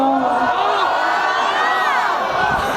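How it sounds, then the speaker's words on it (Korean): A concert crowd at Lotte Mall in Gimpo Airport lets out a loud, sustained collective groan of disappointment when the singer announces the last song, with many voices sliding together in a dense, wavering wash. "이렇게 여러분이 아쉬워하는 소리가 너무 좋아요"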